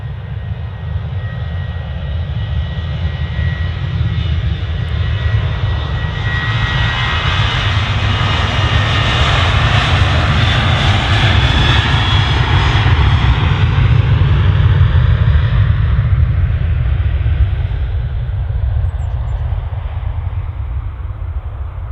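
A Ryanair jet airliner departs Manchester Airport, its engines a loud, close roar that swells over about twenty seconds as the plane passes, then slowly fades.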